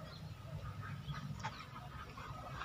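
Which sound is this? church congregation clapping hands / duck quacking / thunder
duck quacking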